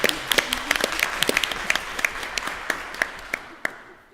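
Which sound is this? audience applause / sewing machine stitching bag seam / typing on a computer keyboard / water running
audience applause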